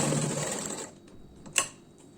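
A sewing machine runs steadily while stitching the front part of a blouse, then halts and gives way to quiet handling and a sharp click.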